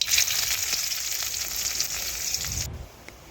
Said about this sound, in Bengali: এখন পেঁয়াজও দেখুন একটু লাল লাল করে ভেজে নিয়েছি